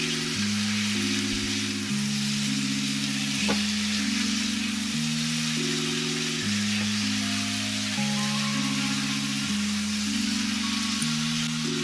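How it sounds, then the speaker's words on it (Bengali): Spice masala for chicken do pyaza fries steadily in a pan, a dense continuous sizzle with stirring, alone under faint background music. "মশলাটাকে একটু ভালো করে কষিয়ে নেব।"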